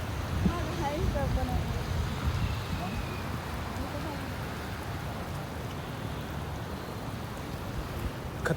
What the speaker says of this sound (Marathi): पाऊस पण जोरात चालू आहे.